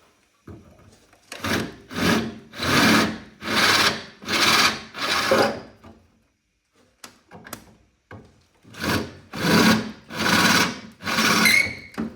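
Repeated bursts of a drill grinding into sheet metal on a Unimog 421 under restoration, about eight short runs with brief pauses, close and loud, with a longer gap midway.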